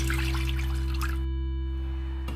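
Water trickles and drips into a mixture of sugar and limoncello liqueur for a frozen orange dessert, with bubbly pouring for about a second before stopping, leaving a steady low hum.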